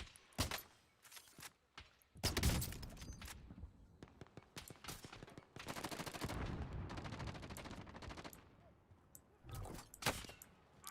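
Gunfire in the Call of Duty video game, sharp single shots and rapid bursts scattered between quieter gaps, loud and close with no speech.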